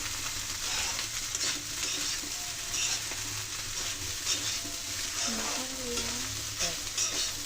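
Rice for restaurant-style egg fried rice is tossed and stirred in a hot pan, making a dense, even sizzle with soft scraping strokes throughout, close up and steady with no speech.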